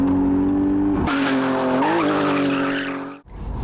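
A turbocharged car engine revs loudly and close by, and the tires skid and squeal hard for about three seconds. The roar cuts off sharply, then the engine comes back in.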